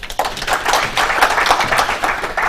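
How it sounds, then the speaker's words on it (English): Applause breaks out at a university ceremony for the School of Humanities and Social Sciences, a dense, lively patter of many hands clapping steadily, close and without voices. "I would want us to clap for them"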